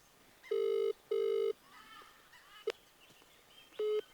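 Two electronic FaceTime call ringing tones in quick succession, then a third after a pause, with a faint click and low background noise between.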